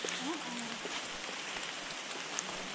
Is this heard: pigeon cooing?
no